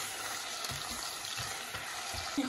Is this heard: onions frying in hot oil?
yes